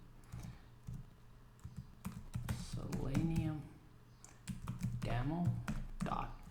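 Rapid clicking keystrokes on a computer keyboard entering a terminal command, close and steady throughout, with a voice talking over part of the typing.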